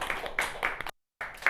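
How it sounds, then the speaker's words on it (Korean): Students in a classroom clap in applause, a quick burst of close hand claps that pauses briefly and then resumes, fairly faint overall. "박수!"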